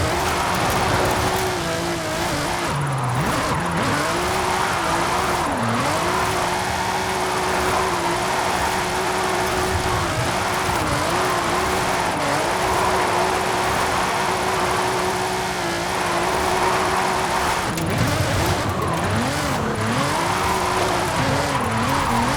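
A car drifts in Forza Horizon 5, its engine revving and swelling in repeated waves while tires squeal and skid almost without pause, loud and close throughout.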